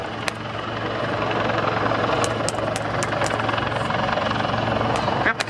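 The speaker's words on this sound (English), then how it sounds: "We have the Commando Merlins here from 846 Squadron" Royal Navy Commando Merlin helicopter of 846 Squadron at the RNAS Yeovilton air day, a loud continuous rotor thrum and turbine whine held steadily close by, with faint crowd sounds beneath.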